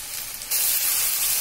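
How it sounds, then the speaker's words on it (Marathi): Onion sautéing in a pan for ragda, a steady close sizzling hiss that grows louder halfway through, with no voices. "कांदा आपण परतून घेऊया।"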